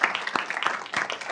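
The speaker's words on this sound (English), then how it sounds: "give a round of applause for anybody that might be donating" An audience at a city council meeting claps in a dense, steady burst of applause, fairly close and continuous with no talking over it.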